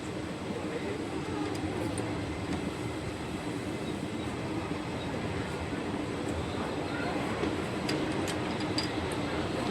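The Porbandar–Jetalsar passenger train 59562 rolls into Jetalsar Junction with a steady, continuous rumble and faint ticking clatter of the wheels, heard from on board.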